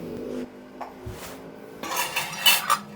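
Curry leaves hit a hot pan for ghee pongal, giving short bursts of spitting crackle alongside metallic clinks of a utensil against the pan, close and moderately loud, with no talking.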